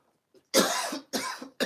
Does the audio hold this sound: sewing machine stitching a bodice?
no